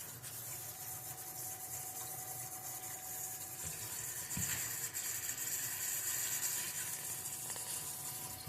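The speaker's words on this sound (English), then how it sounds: "I think that was the 30-second flush cycle." A VonWater 600G under-sink reverse osmosis system runs its flush cycle, giving a faint continuous hiss of rushing water with a soft pump hum and occasional small knocks, heard alone without talk.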